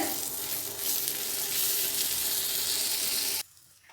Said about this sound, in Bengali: এটা একটু ভাজা হবে কারি পাতার সঙ্গে